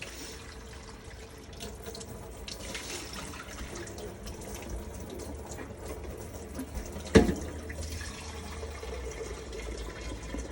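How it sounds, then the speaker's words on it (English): Tap water running into a cooking pot being filled to the top for smothered cubed steak, a steady close splashing hiss lasting several seconds, with a brief louder clunk partway through. "Now I'm just gonna fill the whole pot all the way to the top with water."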